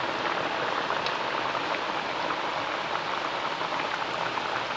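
Pressed green plantain slices deep-frying in oil for a Jamaican recipe, a dense, steady bubbling hiss that stays even and loud throughout with no voices.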